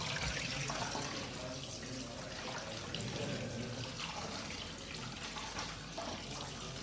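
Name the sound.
washing rice under running water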